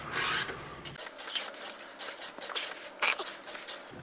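Chainsaw chain teeth being hand-filed, close rasping strokes in an uneven rhythm of about a dozen short scrapes, with no talking.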